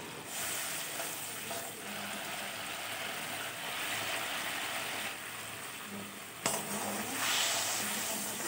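Ground mustard paste frying in a pan for Bengali katla fish curry, a steady close sizzle with soft stirring scrapes throughout and a brief clatter near the end.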